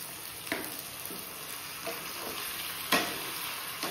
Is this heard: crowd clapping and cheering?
no